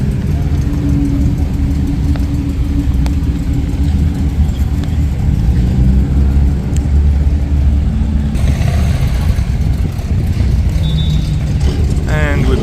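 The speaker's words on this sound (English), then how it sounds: "Triumph TR2." A Triumph TR2 classic sports car on the 1000 Miglia starting grid: a steady, loud, rumbling engine runs near and continuous under a commentator's talk, with crowd and other engines in the background.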